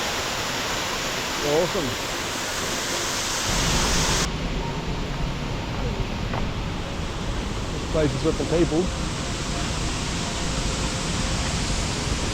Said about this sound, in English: Here's Trip Waterfall.